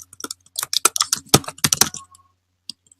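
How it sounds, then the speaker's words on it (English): Rapid clicking of computer keyboard keys as an email address is typed in, a dense burst of keystrokes for about two seconds followed by a couple of isolated taps, close and clear with no talking. "I'm going to type it in for you."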